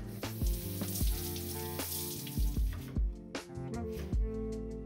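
Pak choy and bok choy greens are washed in water in a home kitchen, with splashing, running water and a few sharp knocks spread unevenly over a few seconds.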